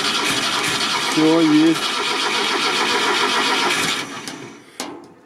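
A ZAZ-968M car engine cranks over and over without catching, a loud steady churning starter sound near the microphone that fades out toward the end, with people talking over it.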